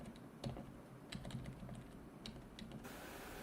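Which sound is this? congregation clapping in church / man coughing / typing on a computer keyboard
typing on a computer keyboard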